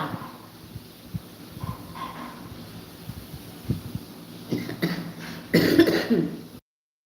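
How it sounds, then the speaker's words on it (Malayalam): Several rough coughs and throat-clearing sounds, close by, growing louder toward the end with a strong burst of coughing. "ഭയങ്കരായിട്ട് ചുമ വരുന്നു"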